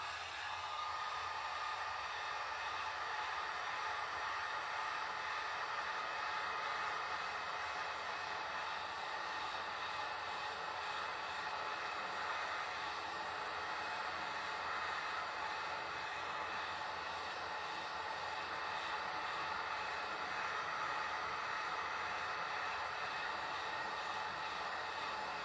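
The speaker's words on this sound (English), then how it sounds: "let me get the old trusted blow dryer out" A blow dryer runs steadily to heat a freshly printed pocket design on a pocket platen, a continuous close, even hiss and whoosh with no breaks and no talking.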